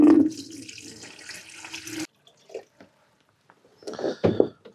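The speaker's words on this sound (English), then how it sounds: "So I'm gonna pour my first 3 liters into the jug." Water poured from a container into a jug while darkroom developer is being mixed, a steady close splashing stream that stops abruptly, followed by a few faint clinks and handling sounds.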